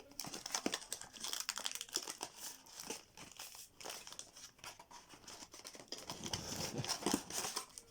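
Crinkly foil wrapper of a trading card booster pack being torn open and crumpled by hand, a close, continuous rustling and crackling with sharper rips throughout, no talking.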